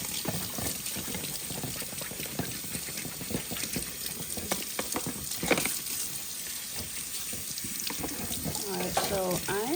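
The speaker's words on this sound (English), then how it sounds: "Use hot water." Hot water runs from a tap into a sink during a dishwasher deep clean, a continuous splashing stream with clattering and knocks over it, fairly close.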